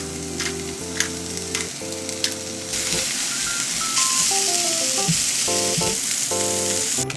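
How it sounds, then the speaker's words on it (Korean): Mushrooms sautéing in a frying pan for a mushroom cheese toast give a steady, close sizzling hiss that grows fuller partway through, with light tinkling music playing throughout. "머시름 치즈 토스트에 들어갈 버섯을 볶아줄게요"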